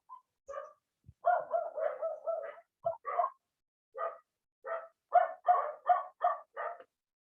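Small dog yapping in a nearby house, a run of short sharp barks in quick bursts with brief pauses, fairly close and moderately loud, no talk over it.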